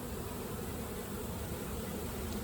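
A honey bee swarm buzzes in a dense, steady drone that fills the whole stretch without pause, loud and close, with no voices over it.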